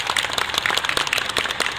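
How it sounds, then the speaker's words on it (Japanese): Brisk clapping from a small group at a rail depot turntable demonstration, dense and even, lasting a couple of seconds. "拍手をお願いいたします"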